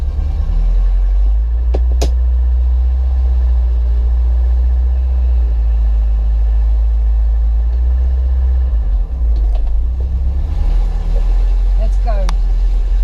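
A Mk3 Ford Cortina Estate pulls away in first gear, its low engine rumble steady and close from inside the car, with a few faint clicks and a brief voice near the end.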